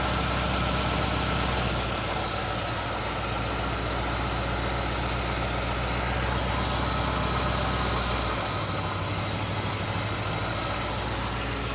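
An engine fitted with knockoff carburetors that have loose throttle shafts runs steadily up close with a constant throbbing drone and vibration, its low rumble shifting partway through; no voices.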